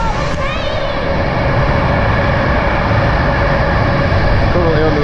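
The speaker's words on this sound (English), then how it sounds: "I never been that close to a train except when I ride it" A train passes close by on a track beneath a motorway bridge, a loud, steady rumble and rolling roar filling the whole clip with high metallic tones, heard during a family bike ride.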